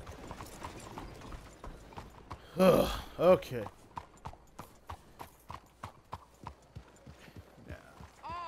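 Steady hoof clip-clops from a horse in the video game Red Dead Redemption 2, regular footfalls with a brief louder burst partway through and a short spoken remark.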